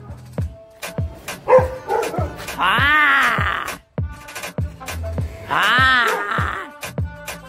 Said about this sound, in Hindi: उधर एक कुत्ता है, वो ना हमारे बहुत पीछे लगता है